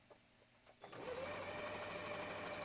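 Sewing machine stitching a Christmas stocking, starting after a second of quiet and then running steadily and close at a constant, even hum.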